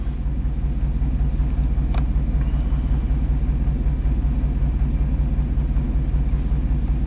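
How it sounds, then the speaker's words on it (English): A Chevy dump truck's Vortec V8 engine runs with a misfire, a loud, steady low rumble close by with no speech over it. "This is a good indicator of misfiring."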